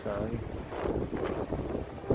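Outdoor wind buffets the microphone on a gusty day in New York City, a steady rumbling roar lasting the whole clip beneath a person speaking briefly.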